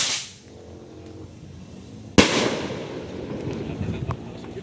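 A Dreamlight Big Quitis firework goes off outdoors with one sharp, loud bang, then a long crackling burst that trails on. Faint background sounds come before the blast.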